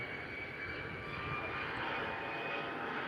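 A jet airliner taking off from runway 03 at Perth Airport, a sustained engine roar with a rising high whine, steady and moderately loud from start to finish with no talk.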